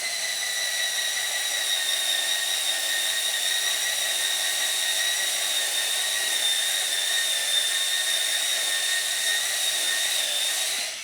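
An electric spin scrubber whirs steadily as it scrubs stained wood, a continuous high-pitched motor whine with bright tonal harmonics holding level and close for the whole stretch, with no talking.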